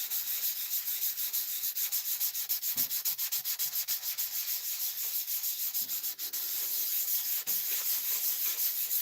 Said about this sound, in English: relaxing night sanding some wood,